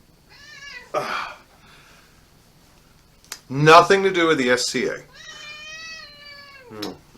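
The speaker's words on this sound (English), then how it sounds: "I'd like you all to meet my studio cat." A studio cat meows several times, with drawn-out tonal cries near and clear between stretches of a person talking over and around them.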